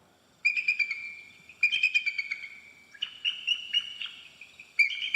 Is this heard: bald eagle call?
yes